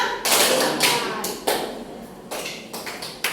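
Schoolchildren in a classroom clapping game clap in sharp, spaced group claps, about seven across a few seconds, loud and close with brief gaps between them.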